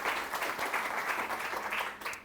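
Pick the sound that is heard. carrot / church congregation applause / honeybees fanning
church congregation applause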